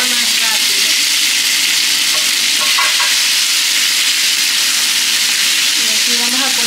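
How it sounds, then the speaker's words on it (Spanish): Cut tomato frying with garlic and onion in a pan, a loud dense hissing sizzle that stays constant throughout, close, with faint clinks and brief tonal sounds, and no clear talking. "Vamos a colocar este tomate que lo cortamos para que se fría más rápido."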